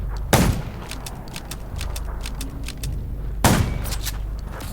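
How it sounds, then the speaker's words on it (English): Gunfire in the zombie survival video game Undawn: two loud, sharp shots about three seconds apart, each followed by a short tail, over a steady ambient game background with faint clicks. "Gunshots will attract them."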